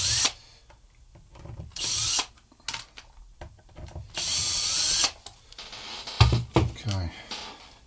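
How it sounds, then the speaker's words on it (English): A power drill backs screws out of a Jazzmaster guitar pickguard in several short whirring bursts separated by quiet pauses and small clicks, close and fairly loud, with a voice speaking between bursts. "I'll take these last three screws out."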